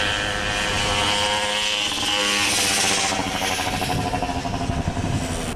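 Restored Tomos moped engine buzzes steadily while riding up and down a street, a loud two-stroke drone that rises and wavers as it revs, with no talk.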